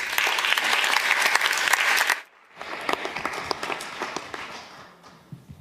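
Audience applause at an evening talk event, dense clapping that cuts off briefly, then resumes more sparsely and fades out.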